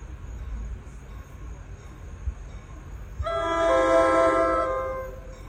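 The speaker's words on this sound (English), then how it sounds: "Tell these girls not to cross because there's a train coming." A train, likely a diesel locomotive, approaches and sounds a long, loud horn that holds for about two seconds before fading, over steady outdoor rumble.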